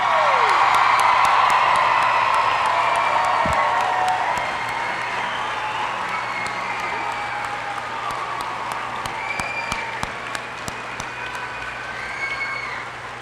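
A crowd applauding and cheering at a high school celebration for a girls' state championship team, with loud sustained clapping, a whoop and shouts early on, settling into steady applause with scattered sharp claps.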